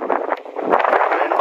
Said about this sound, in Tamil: காற்று தான் ரொம்ப அதிகமாக அடிக்குது